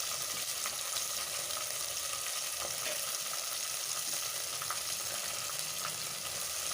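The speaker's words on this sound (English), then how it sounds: "Now I'll drop in some curry leaves." Curry leaves frying in a pan with onion and tomato give a steady, moderately quiet sizzle with faint crackles and occasional stirring taps, and no voices.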